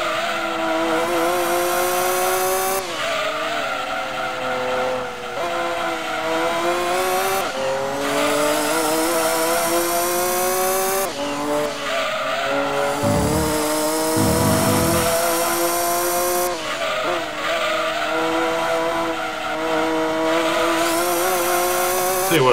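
A Vector supercar racing in the video game Gran Turismo 2, its engine note droning loud and steady throughout, rising and falling in pitch through gear shifts with brief tire-squeal-like bursts.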